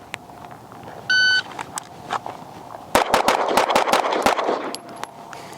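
A Fowler Vanta 9 pistol fires a fast string of sharp, loud shots close by, about seven cracks in quick succession after a short beep, with faint shuffling before the volley.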